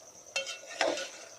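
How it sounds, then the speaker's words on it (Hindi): Chicken keema with coriander powder and red chilli powder stirred and fried in a pan, with two distinct scraping stirs over a low sizzle and no talking. "अब इन सबको मिक्स करेंगे, भूनेंगे 1-2 मिनट।"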